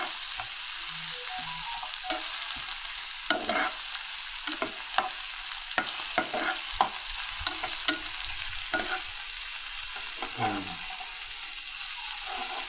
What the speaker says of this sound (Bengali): প্রথমে ভেজিটেবলগুলো ফ্রাই করব